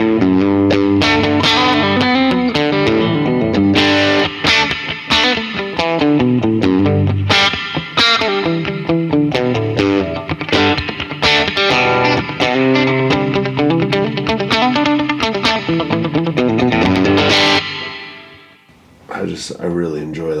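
Electric guitar through a Vox amp model on a Fender Tone Master Pro plays a continuous loud, driven passage of strummed and picked chords for about eighteen seconds, then stops abruptly, leaving a brief ringing tail.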